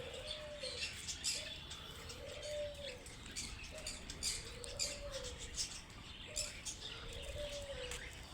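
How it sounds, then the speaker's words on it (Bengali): Several birds call steadily at a resort, with a soft repeated cooing pattern, likely pigeons, recurring every couple of seconds over a background of chirps and outdoor ambience. "এই যে দেখেন অনেকগুলো পাখি"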